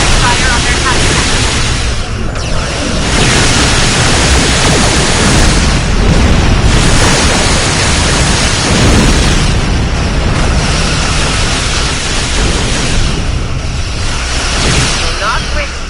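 Starship weapons fire and explosions in a Star Trek space combat game, a dense, continuous roar of booming blasts and bursts lasting throughout, loud and close, with game voices speaking over the barrage.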